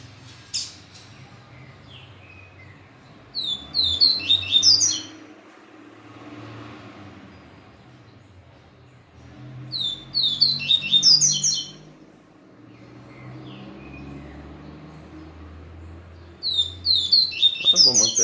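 A papa-capim seedeater (Sporophila) sings three separate bursts of quick, bright twittering phrases, each a couple of seconds long, with low vehicle rumble and faint background noise between them.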